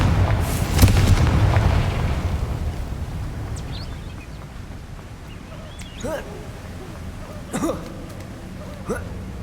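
A Confringo blasting spell explodes in Hogwarts Legacy, a heavy booming burst at the start that rumbles and fades, followed by fainter sparkling magical pops and whooshes.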